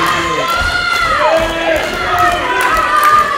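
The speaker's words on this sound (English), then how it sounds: "The crowd is on fire again." A wrestling event crowd cheers and shouts loudly and continuously, excited whoops and high-pitched yells rising over a roaring arena.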